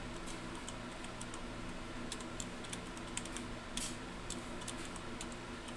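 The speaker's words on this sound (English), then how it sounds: "I'm a two-finger typer." Slow two-finger typing on a computer keyboard: sparse, irregular key clicks tapping quietly in a calm room, close by, with no voices.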